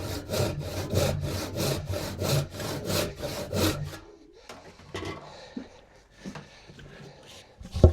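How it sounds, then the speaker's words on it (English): A handsaw rips down a PVA-glued wood joint on a workbench stretcher, about a dozen rhythmic, rasping strokes over four seconds, close and loud, then stops, followed by quieter scattered scraping and handling noises. "So I'm going to rip down this glued joint"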